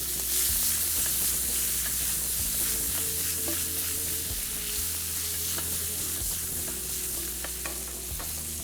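Salted butter sizzling in a hot pan, a steady close crackle and hiss with occasional stirring clatter, no talking.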